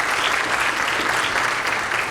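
Steady, dense applause from an audience at a multiple sclerosis symposium presentation, continuous clapping at a moderate distance with no voices over it.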